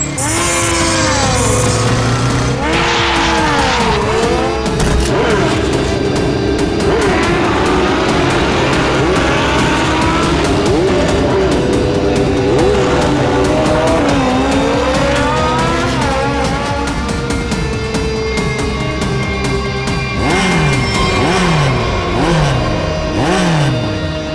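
Racing motorbike engines whine and rev loudly, pitches sweeping up and down as bikes speed past one after another in a continuous roar.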